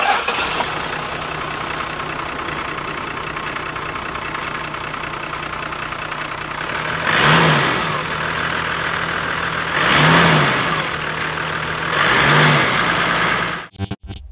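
A 1995 Toyota Land Cruiser VX81 engine runs at a steady idle, close and loud, with three smooth revs swelling and falling before it cuts off abruptly at the end.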